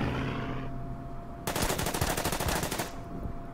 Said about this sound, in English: Bunker returns fire.